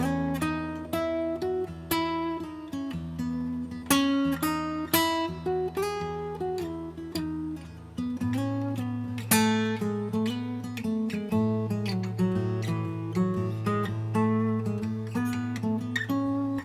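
Guitar solo notes played in quick succession with closely spaced pitches, steady and plucked over a sustained low tone, with no talking.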